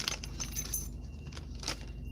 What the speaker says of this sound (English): So it's not bells, they're zipper pulls.